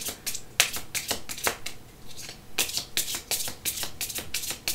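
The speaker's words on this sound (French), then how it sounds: "Ici, j'ai envie de mélanger un peu plus." Tarot cards being shuffled by hand, a steady run of crisp riffling bursts and soft slaps that pause briefly midway, close and fairly quiet with no talking.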